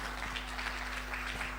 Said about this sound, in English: Mr. Oladene one more time deserve a round of applause